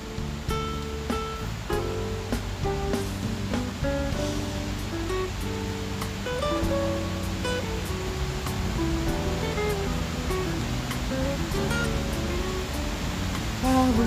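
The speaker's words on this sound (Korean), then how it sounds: "물소리 너무 좋다. 폭포 소리." Yongchu waterfall at Uirimji reservoir in Jecheon makes a constant full roar of falling water, overlaid by a run of clear tonal, music-like notes.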